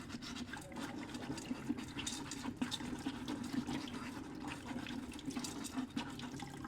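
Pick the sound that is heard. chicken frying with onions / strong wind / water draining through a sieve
water draining through a sieve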